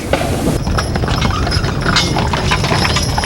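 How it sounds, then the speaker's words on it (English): A team of thirteen horses pulls an antique circus wagon, their hooves clip-clopping in a steady, dense rhythm close by over a constant rumble of the wheels. "ever since then we've been pulling 13 horses."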